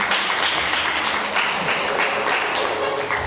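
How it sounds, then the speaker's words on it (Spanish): Congregation applauding during a Spanish-language church service, a dense, steady wash of many hands clapping that holds loud and even throughout. "Dale palmas al Señor."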